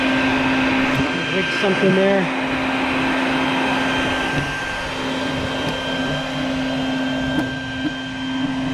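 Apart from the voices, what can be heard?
vacuum running with hose to suck up hornets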